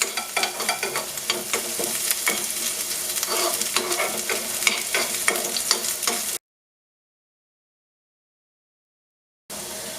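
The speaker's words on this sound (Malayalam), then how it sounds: "1 ടീസ്പൂൺ ഇഞ്ചി ചെറുതായിട്ട് ചോപ്പ് ചെയ്തത് ഇട്ട് കൊടുക്കുക. ഒന്ന് ഫ്രൈ ചെയ്യാൻ അനുവദിക്കുക." Chopped ginger, about a teaspoon, fries and is stirred in a pan for a street-style momo red chilli chutney. A steady close sizzle runs with spoon scrapes for about six seconds, then cuts to silence before the sizzling briefly returns.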